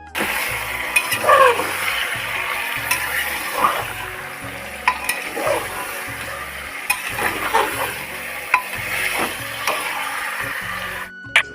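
Onions frying in a pan for pressure-cooker goat curry, a steady sizzle broken by irregular scraping and clinking stir strokes, close and moderately loud, with no talk.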